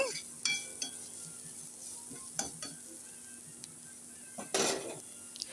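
Grated ginger sautés softly in a pan for vegetable kuzhi paniyaram, a faint sizzle under occasional spatula scrapes and light metallic clinks, with one louder clatter near the end.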